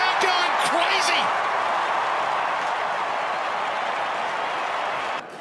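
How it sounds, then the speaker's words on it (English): A large Australian rules football crowd roars and applauds after a goal, a loud sustained wash of cheering that fades slightly toward the end, with a commentator talking over the start. "The crowd going crazy."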